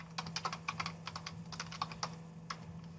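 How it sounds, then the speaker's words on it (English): Someone types steadily on a computer keyboard, the crisp key clicks coming in uneven clusters with brief pauses, close up over a faint hum. "And now I can start typing my email."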